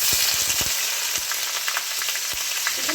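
Chopped onion hitting hot oil in a pan while cooking lentils with bottle gourd, a loud steady sizzle with a few quick clinks and stirring scrapes at the start.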